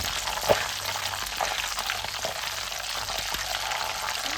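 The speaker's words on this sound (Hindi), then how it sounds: "जनाब हमने इसके अंदर डाला है ज़ीरा और ज़ीरा हो रहा है फ्राई" Cumin seeds fry in hot oil at the start of a white chicken karahi, giving a steady close sizzle with a few faint taps and clinks of a utensil against the pan, and no speech.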